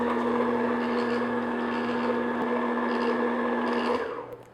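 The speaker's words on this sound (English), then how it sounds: "I'll add that last egg, and then I'll just beat it in low speed until it's nice and smooth" An electric mixer runs steadily at low speed, beating vanilla Bundt cake batter after the last egg goes in, a close, even motor whir that winds down at the end.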